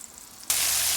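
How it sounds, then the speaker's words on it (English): Chicken cutlets for chicken piccata start frying in a hot pan, silence giving way abruptly to a loud, bright, continuous sizzle halfway through. "as you can hear, they're really sizzling up and getting nice and crispy on there"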